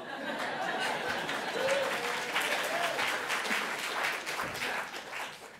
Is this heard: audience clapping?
yes